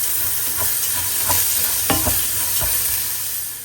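Ginger garlic paste with cinnamon, cardamom and bay leaf frying over low heat, a steady close sizzle broken by several scraping strokes of a spoon stirring the pan.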